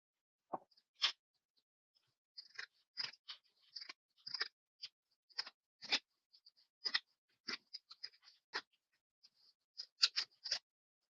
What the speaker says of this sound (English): So I've got this guy. We can cut it in strips.